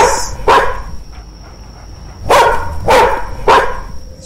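A dog inside a house barks loudly and close by, a single bark followed by a quick run of three more, with no talk.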